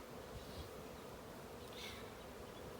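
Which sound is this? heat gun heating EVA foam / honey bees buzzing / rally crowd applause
honey bees buzzing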